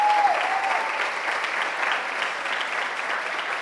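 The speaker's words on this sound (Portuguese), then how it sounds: "Vamos dar aplauso ao Senhor Jesus?" A church congregation at a Brazilian worship service applauds in praise, giving dense, continuous clapping that fills the room at a steady, fairly loud level, with a brief thin tone at the very start.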